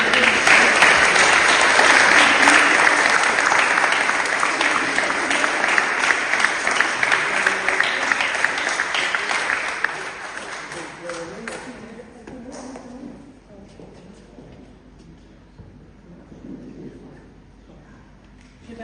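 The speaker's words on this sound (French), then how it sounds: "On va vous applaudir encore." Congregation applauding in a Protestant church during an Easter Sunday service in Mertzwiller, dense clapping for about ten seconds, then thinning and fading into quiet room tone.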